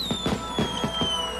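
Fireworks at a Pyrotechnics Guild International gathering burst in a rapid string of about five booming reports, loud and steady, with a high whistling tone running throughout and no talking.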